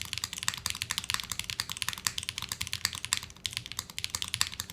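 Rapid, steady typing on an all-glass mechanical keyboard, with crisp, dense clacks in a continuous close-up stream and no talking.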